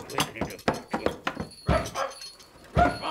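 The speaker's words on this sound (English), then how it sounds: "It's Bumpy Dog. What a noise he makes." Cartoon dog Bumpy Dog barks in a rapid run of short, loud yaps and bow-wows, close and bouncy, with a couple of whimpery yips in between.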